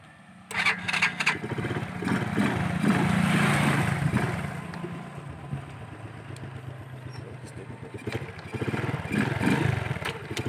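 A Keeway RCX125 motorcycle engine on a test drive rumbles steadily at close range, rising louder after a quiet start, easing in the middle and building again toward the end.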